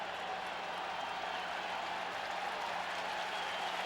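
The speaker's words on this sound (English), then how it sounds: "Pardon me while I stand and applaud with the rest of this crowd" A football stadium crowd applauding during Notre Dame vs. Michigan in 1994, a steady wash of clapping and crowd noise heard from a distance, sustained and even throughout.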